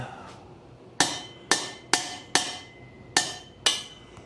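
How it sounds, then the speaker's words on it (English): Six sharp, ringing hammer strikes knocking a piece of a miter saw station into place, spaced roughly half a second apart with a short pause midway, close and loud. "let's hammer this guy a little bit this way"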